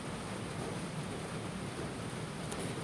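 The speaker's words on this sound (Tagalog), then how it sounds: "Dahil malakas na naman ang ulan." Heavy rain pouring down during a pool tournament broadcast, a steady, dense, loud wash of noise that stays constant throughout, with no talk.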